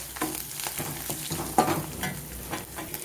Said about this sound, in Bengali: এরপর একটু হালকা ভেজে নিয়ে দিয়ে দেবো পেঁয়াজ।